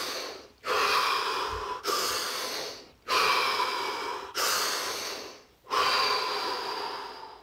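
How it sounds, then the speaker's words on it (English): Deep breaths taken one after another during a guided relaxation, five long airy inhale-exhale cycles close to the microphone, each separated by a brief pause, with no talking. "Take 3 deep breaths."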